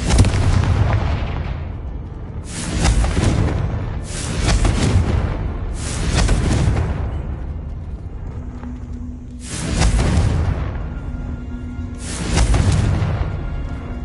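Confringo blasting-spell explosions in a Harry Potter video game: five heavy booming blasts arrive at roughly even intervals, each a loud burst with a rumbling tail fading before the next.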